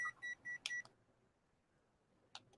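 An EMF meter gadget gives three short, evenly spaced electronic beeps near the start, followed by a brief sharper chirp, then falls mostly quiet apart from one faint click near the end.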